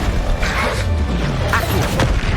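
A Confringo fire spell explodes in the Hogwarts Legacy video game, giving a loud, dense blast with crackling rumble that fills the whole moment, with brief sharper impacts on top.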